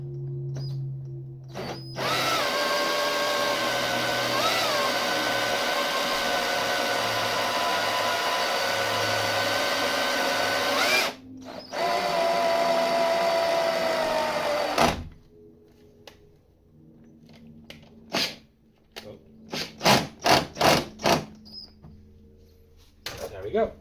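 A power drill whines loudly for long stretches while drilling a hole in a VW Golf rear bumper for parking sensors, with a short pause between runs, followed by scattered short bursts and a few spoken words.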